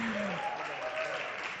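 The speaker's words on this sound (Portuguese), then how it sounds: "Palmas para Cainã" A church audience at a Brazilian live show applauds steadily, a dense and continuous wash of many hands clapping at moderate volume, with a faint voice rising underneath at the start.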